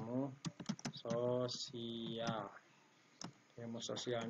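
Keys tap on a computer keyboard while typing in Microsoft Word, with light clicks scattered under a person talking throughout.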